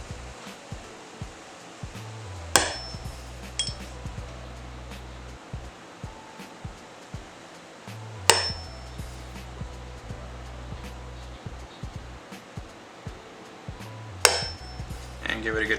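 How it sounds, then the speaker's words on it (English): Three sharp metallic punch strikes at roughly six-second intervals as a center punch is hammered into pre-marked holes on a Ram truck cab, each hit loud and close over low background rumble. "I've been center punching each of these holes just to ensure that the drill bit doesn't walk on me."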